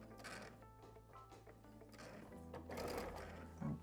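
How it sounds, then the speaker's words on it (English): A sewing machine back-stitches a seam on a quilted Bella Quilt Coat. Its close, continuous mechanical whir shifts pitch partway through as the stitching direction changes, then ends with a brief knock. "Now I'm gonna back stitch."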